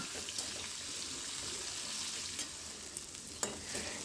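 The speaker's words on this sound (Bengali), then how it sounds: "এবার আলু আর পেঁয়াজকে একসঙ্গে ভাজবো" Potatoes and onions fry together in a pan, giving a soft, continuous sizzle with occasional light stirring clicks, heard close and fairly quiet.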